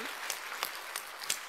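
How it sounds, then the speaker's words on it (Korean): A church congregation gives a short burst of scattered applause, moderately distant, with several sharper claps standing out over a soft, even patter. "이럴 때는 막 박수도 쳐주고 이래야 되는데"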